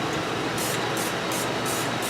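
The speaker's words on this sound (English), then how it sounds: "I'll spray a little bit of grease on there" Aerosol grease sprays in a steady hiss onto a ball joint on a Dodge truck, pulsing in short repeated bursts over about two seconds, close and fairly loud with no talking.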